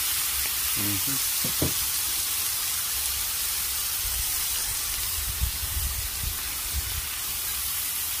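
Onion sizzles and fries on a hot griddle as steady, even hiss, with a few light scrapes and clunks near the start and soft knocks toward the end.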